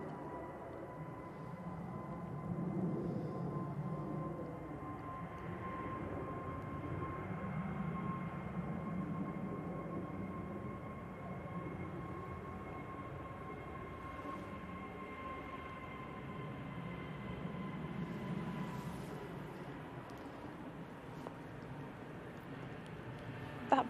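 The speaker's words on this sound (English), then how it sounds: "That BizJet is so ridiculously loud." Pilatus PC-24 business jet taking off, a loud steady roar with a sustained whine running throughout, broad rumble swelling and easing over about twenty seconds.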